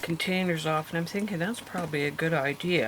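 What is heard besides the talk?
No everyday noises stand out.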